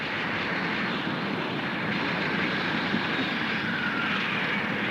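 Two airplanes flying overhead in a 1934 film: a continuous, loud propeller-engine drone that holds steady throughout with no pauses and no voices.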